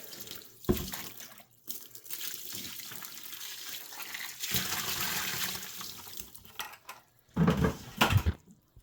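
Water runs and splashes in uneven bursts, pouring slowly onto coco coir, with pauses and a few bumps between pours.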